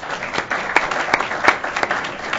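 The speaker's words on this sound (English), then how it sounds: "Please give him a round of applause." A workshop audience applauds a speaker, dense steady clapping throughout with a few sharp, louder claps standing out close by.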